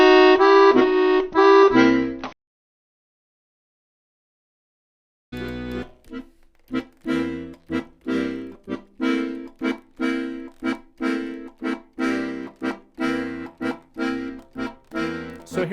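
An accordion plays blues, first a short sustained chord, then after a silent pause a rhythmic run of punchy repeated bass notes and chords in a boogie-woogie pulse, close and clear with no talking.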